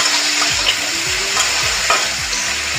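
Diced brinjal coated in salt and turmeric sizzles steadily in hot oil, close to the mic. A spoon stirs and scrapes the pan several times, with no voices.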